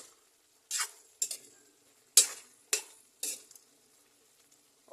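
Potatoes frying in a pan, stirred with a utensil: five or six scraping strokes with soft sizzling behind them, close and fairly quiet, with no talking.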